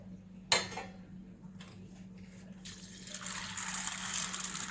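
Soaked black-eyed peas are rinsed in water in a kitchen: a sharp knock against a vessel, then soft stirring, and a building rush of running, splashing water, faint and close, with no talk.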